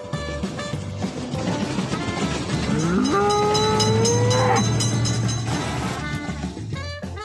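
Simulated train passing a railroad crossing in a mobile game, continuous loud rumble with a rising horn-like wail in the middle, layered over game music.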